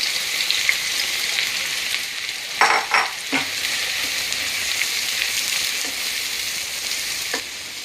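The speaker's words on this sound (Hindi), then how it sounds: "अभी 1 चम्मच साजीरा डाली और ये गरम मसाला मिक्स कर रही हूँ।" Cumin and garam masala fry in a pan with a constant bright sizzle. A short burst of stirring scrapes comes in the middle and a few light clicks follow, with no talking.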